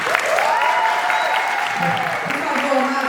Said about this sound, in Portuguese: Agora sim, uma salva de palmas para a nossa equipe.